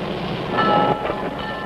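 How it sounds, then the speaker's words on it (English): A diesel locomotive passes through an automatic rail wash rack: a loud, dense rush of spraying water over a low mechanical rumble, swelling briefly in the middle of the short stretch. "The diesel gets washed by an automatic wash rack."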